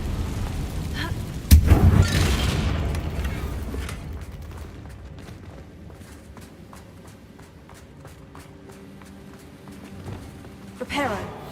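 A Confringo blasting spell strikes a damaged bridge in Hogwarts Legacy, landing as a sharp burst followed by a rumbling boom. Lighter clattering and footstep-like taps follow, with another brief burst near the end.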